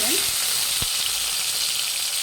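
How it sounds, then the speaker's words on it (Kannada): Chopped tomatoes fry in hot oil in a pan, giving a close, even sizzling hiss with one soft knock partway through. "ಎಣ್ಣೆಲಿ ಚೆನ್ನಾಗಿ ಫ್ರೈ ಮಾಡಬೇಕು"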